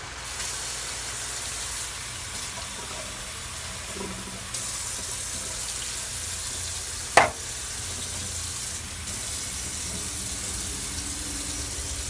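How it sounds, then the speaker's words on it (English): Chicken cacciatore sizzles in a pan, a steady bright hiss that holds throughout, interrupted once by a sharp clank partway through, with no talking. "Hear that sizzle?"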